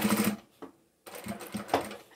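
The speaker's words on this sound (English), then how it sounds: "Let's go to the machine." A sewing machine stitching lines across fabric pockets of a drawstring bag, two close bursts of rapid rhythmic needle chatter separated by a short pause with a soft clunk.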